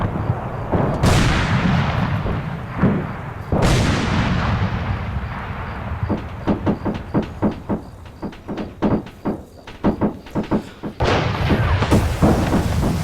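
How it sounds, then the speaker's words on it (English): Arma 3 artillery rocket strike: a string of heavy, booming explosions with long rumbling tails, followed by a rapid series of sharp, loud impact thuds and cracks, then more blasts closing out. "here comes the artillery. Waiting for the rocket to come in."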